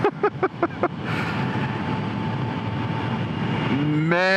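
A supercharged Kawasaki ZH2 motorcycle accelerating hard, its engine a steady loud roar with supercharger whine, preceded by a few quick revving bursts and ending in a rising gear-like whine.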